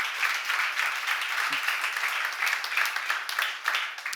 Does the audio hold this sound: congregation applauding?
yes